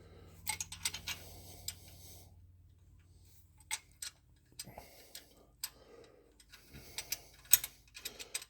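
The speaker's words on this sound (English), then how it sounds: "So I'm taking that bolt out." A bolt is worked out on a hot rod in a garage with a ratchet, giving irregular metallic clicks and short ticking bursts separated by quiet pauses, close and fairly faint.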